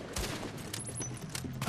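A turret in the shooter game The Division fires several short, faint cracks of gunfire, scattered and somewhat distant, under a low background rumble.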